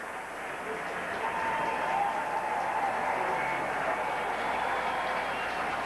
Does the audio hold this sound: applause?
yes